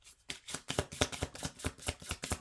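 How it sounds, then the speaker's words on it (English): Tarot cards are shuffled in quick, regular riffling bursts, about a dozen crisp papery flutters in a row, close and clear with no talking. "this is how I end up with cards, because I see them when I shuffle"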